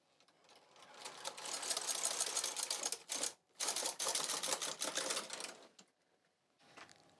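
A carriage slides across a Brother 260 knitting machine knitting a row, giving a dense mechanical clatter that runs about three seconds, stops briefly, resumes for another two seconds and ends with a quieter trailing rattle.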